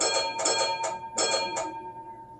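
A model train trolley bell rings in clustered strikes, about five bright dings in two groups, close and clear, with the last ring fading out.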